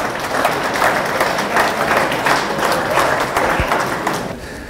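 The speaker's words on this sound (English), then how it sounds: "give yourself a round of applause for being great" Sustained applause from a room of standing coaches at a high school athletic association gathering, dense steady clapping that holds for several seconds before tapering slightly at the end.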